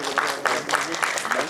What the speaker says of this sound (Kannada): ಪ್ರೀತಿಯ ಚಪ್ಪಾಳೆಯೊಂದಿಗೆ ಬರ್ಮಾಡ್ಕೊಳ್ಳೋಣ